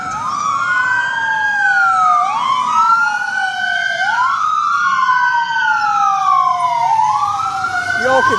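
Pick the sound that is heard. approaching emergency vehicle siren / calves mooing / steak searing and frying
approaching emergency vehicle siren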